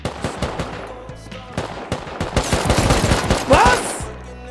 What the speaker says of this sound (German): Schieß drauf einfach.